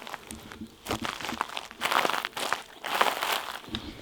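Footsteps crunch and crackle over brittle, dry fungus in an abandoned housing estate, each step a rough crinkling burst in an uneven walking rhythm.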